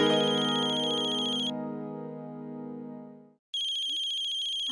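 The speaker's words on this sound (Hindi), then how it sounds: "अक्षरा का फोन।" A loud electronic phone ringtone plays a sustained tonal melody, fades and cuts off briefly, then rings again at full volume.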